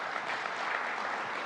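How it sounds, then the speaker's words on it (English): Brief, even wash of audience applause at a governor's briefing in Syracuse, moderately distant and steady throughout with no talk over it. "give that a round of applause if you like"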